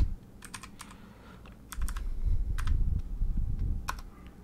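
Computer keyboard keys typed in short rapid bursts while code is entered in Android Studio, with clustered clicks separated by brief pauses over a low steady room hum.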